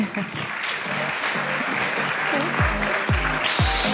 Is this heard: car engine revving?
no